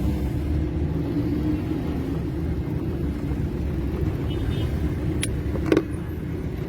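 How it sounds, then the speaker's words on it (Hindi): Heavy trucks rolling along a busy road in Rawalpindi, Pakistan, a steady low rumble of passing traffic with a brief sharper engine or horn burst near the end. "हैवी ट्रक्स पाकिस्तान की सड़कों की पहचान।"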